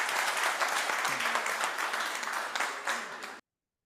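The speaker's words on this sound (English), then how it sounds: "A big round of applause for Frank." Audience applause at a cloud security event breaks out loud and dense, a steady wash of many hands clapping close by that holds for over three seconds before cutting off abruptly.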